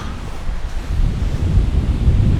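Strong wind gusts hard into the microphone, a loud, rough, continuous low rumble that swells and buffets throughout with no other clear sounds.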